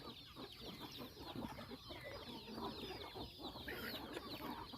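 A flock of chickens on a farm out by the fields, clucking steadily in a dense, overlapping chorus with no voices.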